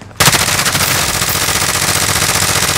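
Sustained automatic gunfire in Call of Duty: Modern Warfare, a loud rapid burst that starts abruptly and rattles on without pause for nearly three seconds.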